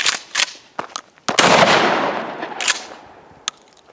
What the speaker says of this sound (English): we got to load in some slugs and see if we can't hit any long distance shots